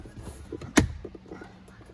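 Glove box door on a 2018 Chevrolet Silverado pushed back into place, giving one sharp click over quiet cabin rustling, near and brief.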